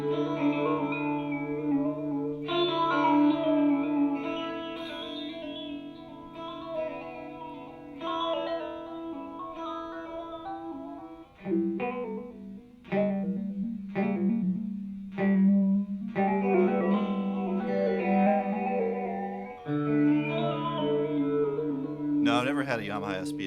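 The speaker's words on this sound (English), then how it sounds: "we're getting like spaceship control noises" A guitar run through an effects unit gives sustained, warbling electronic tones with chorus and distortion that sound like spaceship control-panel noises. The notes shift in pitch, briefly drop out, and end in a short bright burst.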